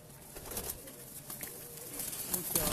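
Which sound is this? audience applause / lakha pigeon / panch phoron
lakha pigeon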